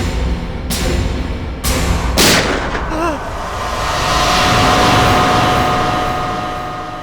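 Gunshots are fired at a television in a crime drama scene, three sharp loud bangs in quick succession followed by a swelling rumbling tail and background score.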